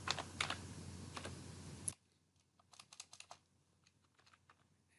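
Someone types on a computer keyboard to write a gig description: a dense run of clicks that then drops to a softer, quieter patter of scattered keystrokes, with no voices.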